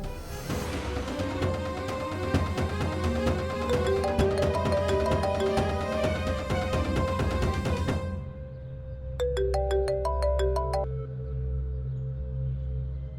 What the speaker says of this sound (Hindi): सुमन, सुमन, ये तो अम्मा का फोन है